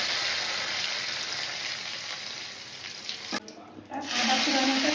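Whole cumin seeds and spices sizzle in hot oil in a wok, a close, steady crackling hiss that briefly drops out near the end before surging back loudly.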